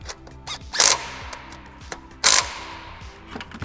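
Ratchet cranking down an intercooler bracket on a 2009 Subaru STI, a few short bursts of clicking mixed with scattered metallic handling noises, close by, with no talking.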